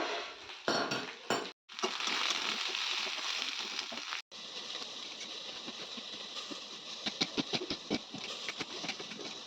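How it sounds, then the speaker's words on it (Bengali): Pointed gourd (potol) pieces frying in oil in a wok make a steady close sizzle, broken by brief pauses, with clinks of utensils against the pan and a run of rapid taps near the end. "প্রথমে আমি পটলগুলো ভেজে নিই ভালো করে"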